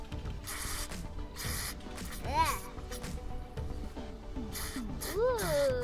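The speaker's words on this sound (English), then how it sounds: "open up your choke and open up your throttle and actually watch it spray up in there" Carburetor cleaner hisses in several short, separate spray bursts into a small engine carburetor with the choke and throttle open, close to the listener. A person speaks briefly between the bursts.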